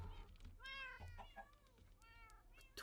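Cats meowing in the video game Minecraft, several rising, tonal meows repeating through the short stretch over a steady low game hum, fairly faint, with no talk over them.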